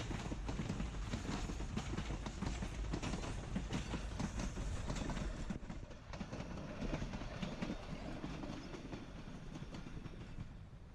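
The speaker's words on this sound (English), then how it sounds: "K37 Class locomotive number 493 shows up with train number 466" K37 class narrow-gauge locomotive number 493 hauls train 466, the second section of the Silverton Express on the Durango & Silverton line, back toward Durango. It makes a continuous, moderately distant rumble with rhythmic clickety-clack wheel clatter, and no voices.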